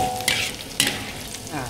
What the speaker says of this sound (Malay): Goreng bawang putih masuk dulu sikit.